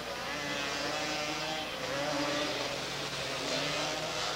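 Three-wheeler off-road racing engines at a 1986 Thurston ORV track in Washington, in a 35+ master class race, roaring steadily and loudly throughout, with a continuous droning buzz and slight rises in pitch.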